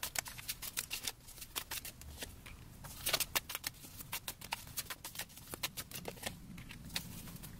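Tarot cards are shuffled close up, making a soft continuous run of rapid flicking and riffling snaps with one brief denser burst midway; quiet overall with no talking.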